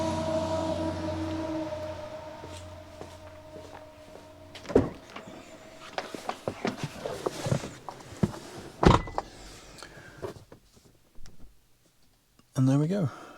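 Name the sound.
Autel Maxicharger EV charge port locking and charging starting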